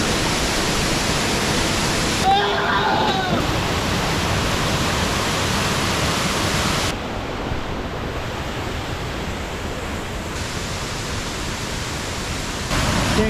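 Rose River Falls cascading roughly 70 feet down rock into a large pool, a steady, loud, close rush of falling water that fills the whole span without a break, with no voices.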